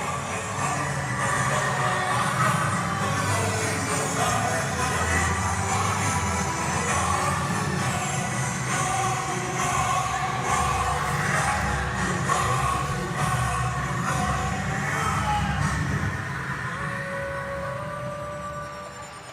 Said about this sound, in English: The crowd are on their feet.